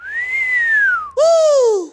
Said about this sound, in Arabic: انتو اتنين عم تصفروا وكأنكم عم تسووا موسيقى